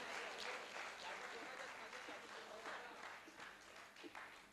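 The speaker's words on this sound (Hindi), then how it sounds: "चलिए जोरदार तालियों से डॉक्टर साहब का इस्तकबाल करिए" Steady audience applause at a mushaira and kavi sammelan poetry gathering, welcoming a poet to the stage. It is dense, even clapping throughout, heard faintly and from some distance.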